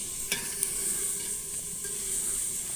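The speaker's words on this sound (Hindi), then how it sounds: "प्याज और मिर्चों को तड़का लग चुका है" Steady sizzling of onions and chillies frying in a pan, with a couple of brief clinks from stirring.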